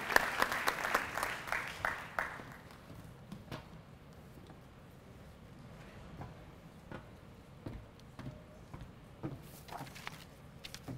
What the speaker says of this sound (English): let's have a round of applause for all of the people from the high schools